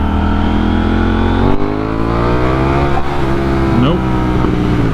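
A KTM Duke 890R motorcycle revs hard during a wheelie attempt, its close, loud engine climbing in pitch, dropping off and rising again, with a voice briefly audible over the roar.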